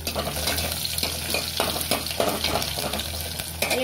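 Garlic sizzles and crackles in hot oil, with occasional stirring scrapes in the pan, steady and close.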